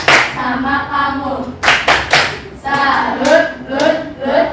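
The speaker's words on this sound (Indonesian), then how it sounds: "Kasih tepuk salut untuk kelompok 2." A primary school class of fifth graders claps for a group in repeated bursts, loud and close, with children's voices chanting in between.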